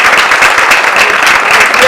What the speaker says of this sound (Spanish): Finalmente quiero pedir un aplauso